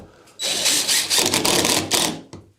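Power drill driving plasterboard screws into a ceiling board along a new loft hatch opening, a close whirring burst of about two seconds with a short stutter, then a brief final spin.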